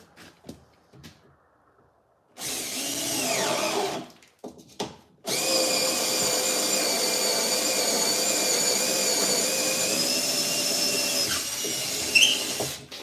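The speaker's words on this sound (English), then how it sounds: "Let's see if this old drill will make it through there." An old corded power drill bores a hole, its motor whining up in short bursts and then running in a long, loud, steady grind, with quiet pauses and faint handling noises around it.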